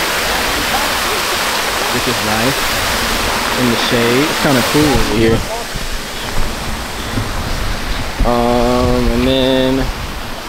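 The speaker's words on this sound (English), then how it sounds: "Here is the water fountain," An outdoor water fountain in a shaded park splashes in a continuous broadband rush under a person talking nearby, the hiss steady behind the voice throughout.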